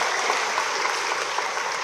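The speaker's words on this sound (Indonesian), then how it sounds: "Tepuk tangan buat beliau." A crowd applauding at a public gathering addressed by Batam's mayor, a dense, even wash of many hands clapping steadily throughout.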